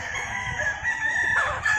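A Kelso gamefowl rooster at a game farm in Compostela, Cebu, crows once in a loud, close, drawn-out call with no talking over it.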